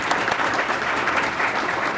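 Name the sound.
applause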